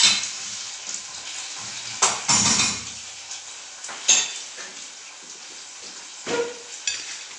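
Sausage sizzling in a pan with fried onion and pepper, a steady close fry broken by a few louder bursts of crackle and the clink of a utensil against the pan.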